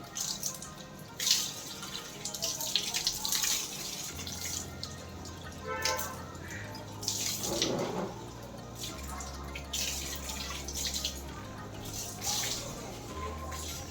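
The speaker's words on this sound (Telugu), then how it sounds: "మా శ్రీవారు పాపం మొక్కలకు సమ్మర్ కదా నీళ్లు పడుతున్నారు" A tap runs steadily while watering potted garden plants in summer, a close, constant gush of water with drips and splashes over a low background hum.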